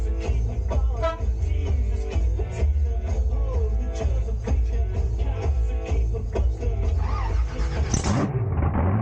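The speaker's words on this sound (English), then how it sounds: "Georgina, start your engine." A monster truck engine at a UK Monster Truck Nationals show cranks and roars to life, loud and continuous with revving throughout, ending in a sharp high burst near the close.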